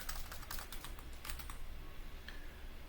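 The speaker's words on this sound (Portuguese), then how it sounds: "clico aqui e vou digitar" Rapid, steady tapping of keys on a computer keyboard, a close and fairly quiet clatter that runs continuously with no voices.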